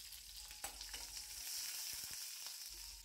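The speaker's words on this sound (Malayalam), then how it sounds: "ഇനി ഇത് 3 കൂടി എണ്ണയിൽ കിടന്ന് ഒന്ന് വഴറ്റിയെടുക്കുക." Dried red chillies are sautéed in oil for a Kerala ginger curry, giving a faint, soft sizzle with a few light stirring taps.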